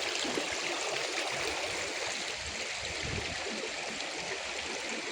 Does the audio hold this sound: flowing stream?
yes